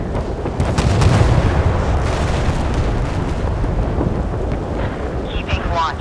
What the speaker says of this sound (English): Prepare to fire.